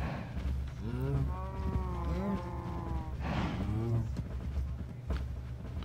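Fluid cows in a Minecraft Sky Factory world moo repeatedly, several drawn-out bovine calls overlapping over a steady low background hum.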